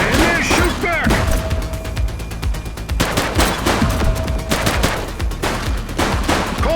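Rapid bursts of automatic gunfire and single shots crackle through a police shootout in the video game The Precinct, dense and loud, with shouting voices between volleys.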